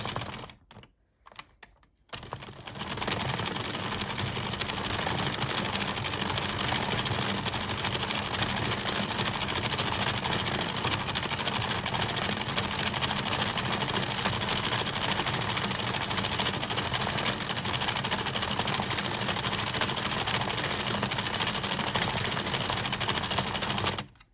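A hand-cranked 22-needle circular knitting machine knits round after round, a loud continuous rapid clatter of needles and mechanism that runs steadily for over twenty seconds after a few brief stops at the start.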